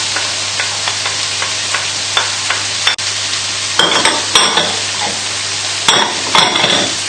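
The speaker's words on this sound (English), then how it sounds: "So just give this a little stir through." Chilli, ginger and garlic stir-fry loudly in a hot pan, a steady sizzle broken by scrapes and taps of a utensil, with busier stirring bursts toward the end.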